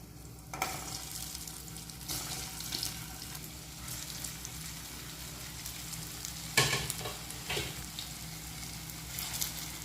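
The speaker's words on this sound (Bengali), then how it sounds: "এখন টিকিগুলোকে আমি শালো ফ্রাই করে নিচ্ছি" Chicken tikka shallow-frying in hot white oil in a wok makes a busy, close sizzle and crackle, punctuated by occasional knocks and scrapes as the pieces are turned.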